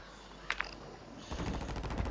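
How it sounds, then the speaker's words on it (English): Gunfire in a video game shooter, two faint sharp shots early, then a rapid steady stream of automatic fire, distant and moderately quiet. "Guy's shooting from the roof."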